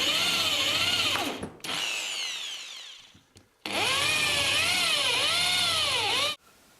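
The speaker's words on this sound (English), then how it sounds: "So now I'm going to drill a few holes so I can countersink the screws." A cordless power drill bores holes into a wooden beam for countersunk screws during a newel post installation. Two close, loud bursts of whining motor rise and fall in pitch as the bit bites, separated by a short pause.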